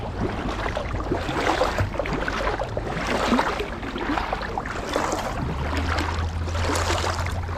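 A small boat is paddled on the River Thames in Reading, rhythmic splashing strokes in the water repeating roughly every second or two over steady wind and open-air background.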